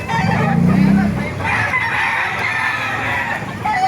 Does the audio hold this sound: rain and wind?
no